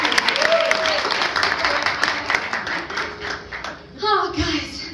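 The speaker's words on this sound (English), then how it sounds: "Give a round of applause for my lovely stage chandelier" An audience at a live show claps in a lively round of applause, with voices and a child's chatter mixed in, fading briefly before a final swell.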